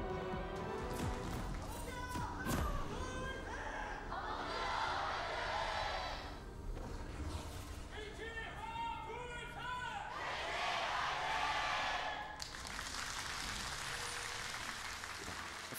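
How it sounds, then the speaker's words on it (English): A packed stadium crowd at an LCK Summer esports match cheers in swelling waves, loud and continuous, with shouts rising over steady commentary talk throughout. "We have a full crowd, packed stadium here at Lowell Park."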